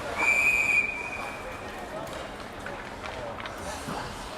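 A referee's whistle sounds once near the start of an ice hockey game, a clear shrill blast under a commentator's ongoing talk and rink noise.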